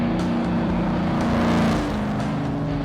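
Steady road noise of a car driving along a road, a continuous low engine and tyre rumble with a slight swell midway, no talk.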